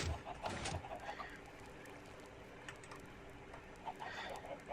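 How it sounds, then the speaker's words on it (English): Chickens in Minecraft clucking softly, several short bursts scattered over a few seconds, faint and close with gentle ambient background. "So just give myself a bunch of chickens here."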